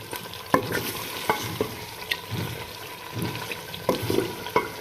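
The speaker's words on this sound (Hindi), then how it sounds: "तो हम लहसुन और अदरक के पेस्ट को अच्छे से भून लेंगे।" A spoon scrapes and taps around a karahi pan in slow, spaced strokes over a constant background sizzle of frying garlic-ginger paste for chicken karahi.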